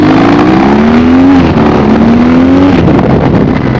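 A BMW R nineT 1200 Scrambler motorcycle accelerates hard, its engine note climbing through a gear, dropping at the shift and rising again, loud and close throughout with no talk.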